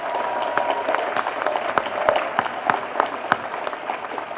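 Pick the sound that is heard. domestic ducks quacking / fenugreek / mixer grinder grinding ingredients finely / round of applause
round of applause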